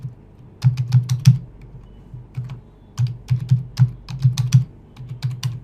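Brisk typing of a username on a computer keyboard, close and clear, in quick bursts of key presses broken by short pauses, with a low hum underneath.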